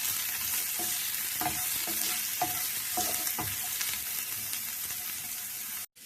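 Vegetables sauté in a hot pan with a constant broad sizzle. A spoon stirs and scrapes through them in several soft strokes, and the sound cuts off near the end.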